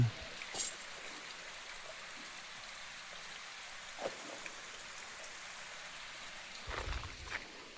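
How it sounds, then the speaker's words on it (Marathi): Steady broadband rush of flowing water, like a distant waterfall, filling the whole clip with a few faint knocks and brief noises along the way. "इकडनं धबधब्याचा आवाज येतोय पाणी येतय"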